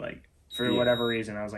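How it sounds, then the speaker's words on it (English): Steady electronic alarm beeping in a basement, a high tone persisting under close conversational talk. "Excuse the beeping when I'm down here in the basement."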